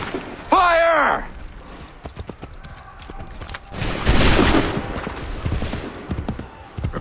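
Musket volley gunfire in the Assassin's Creed 3 video game, a dense crackling burst of many shots that rises loud midway, with a shouted order and horse sounds around it.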